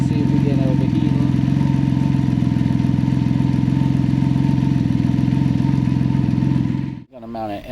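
A Can-Am Ryker's engine idles steadily and close after its coolant has been topped up, a continuous mechanical drone that cuts out near the end before a brief burst of sound.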